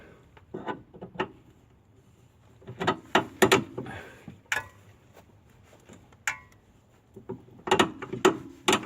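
Irregular metallic clicks, knocks and ratcheting clunks of a sway bar link being fitted on a 2002-2006 Honda CR-V, close up, in scattered bursts with quiet gaps between.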